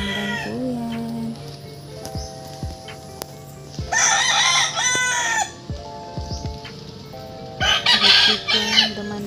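Roosters crow loudly and nearby, with two or three long cock-a-doodle-doo calls over a background of hens clucking and other farmyard fowl.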